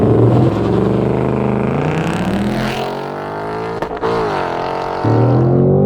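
A Ford Mustang Dark Horse with 500 horsepower accelerates hard in a 0-60 run, its V8 engine climbing loudly through the revs in rising sweeps, briefly dropping at a gear change, then pulling again, heard from inside the car.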